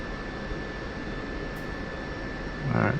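An aircraft engine throttling up, a steady broadband roar with a constant whine, swelling louder near the end.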